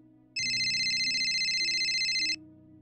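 A mobile phone rings with a bright, steady electronic tone for about two seconds, starting and stopping abruptly over a low background hum.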